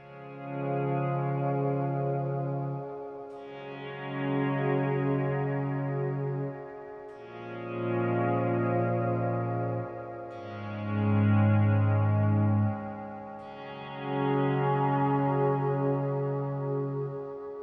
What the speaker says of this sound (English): engage a kind of longer decay, kind of very sort of ambient reverb tone like that